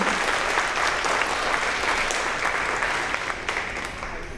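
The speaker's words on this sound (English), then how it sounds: "One more round of applause for them." A crowd at a second grade promotion ceremony applauds steadily with dense, sustained clapping that tapers slightly toward the end, with no voices on top.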